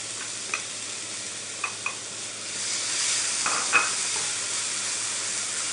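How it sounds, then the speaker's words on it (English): Peppers hit a hot pan already cooking garlic and oregano, the sizzle swelling into a steady hiss after a few light clinks of utensils, close and moderately loud with no talking. "I'm gonna add the peppers."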